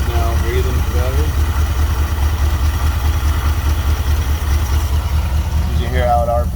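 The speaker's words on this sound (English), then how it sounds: "Get how the engine's now breathing better" A large motorhome engine idles steadily with a low, even rumble, close and loud, with faint mechanical clatter over it.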